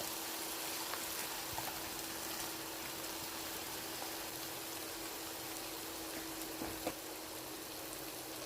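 Potatoes, carrots and yardlong beans sizzling with salt in a pan, a steady broadband hiss with occasional soft crackles and scrapes, close and continuous.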